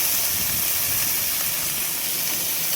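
Cut vegetables and drumsticks frying in hot oil, a dense, steady hissing sizzle that stays loud and even from start to finish, with no voices.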